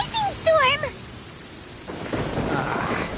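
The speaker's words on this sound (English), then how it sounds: "Uh-oh! Lightning storm!" Thunderstorm in the Genshin Impact video game: a tonal chirping effect fades into steady rain hiss with a soft rumble of thunder building toward the end, fairly quiet overall.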